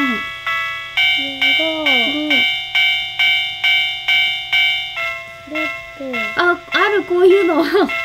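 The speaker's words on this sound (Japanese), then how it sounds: "あ、すごい、鐘の音。" A Tomix N-gauge model railway level crossing bell: a series of sharp, evenly spaced electronic dings ring out alone, then slow and break off as voices chatter over the last part.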